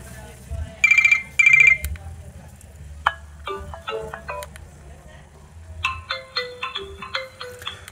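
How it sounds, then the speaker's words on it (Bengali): A T-SOURCE T211 keypad phone plays its built-in ringtones: two short bursts of an electronic tone, then a run of bright plinking melodic notes, and later another tune of repeated rising chimes, all clear and close. "ফোনটিতে কিন্তু 3টা মাত্র রিংটোন থাকছে"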